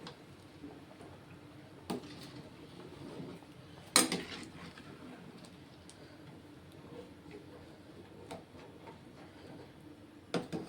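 A cooking pot of Telugu-style fish curry (chepala pulusu) stirred slowly, giving faint, sparse clinks and ticks of a utensil against the pot over a quiet kitchen background.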